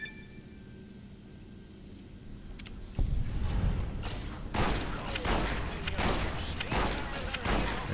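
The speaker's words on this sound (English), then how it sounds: "Essentially, there was a countdown, there was an explosion." In the video game Fallout New Vegas, a sudden loud blast erupts after a quiet stretch, followed by sustained crackling rumble and scattered bursts like debris or gunfire.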